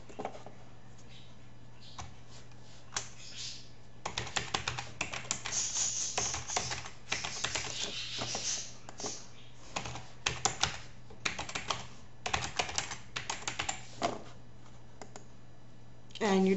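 Rapid clicking of keys on a computer keyboard as a password is entered, bursts of typing with short pauses, close and fairly quiet over a faint steady hum.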